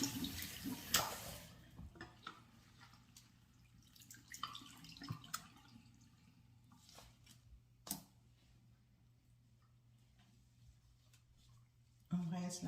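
Tap water rinsing a wig, a faint running trickle with scattered drips and splashes, interrupted by a few louder knocks and a sudden burst of flow near the end, with speech present.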